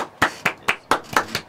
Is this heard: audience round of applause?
yes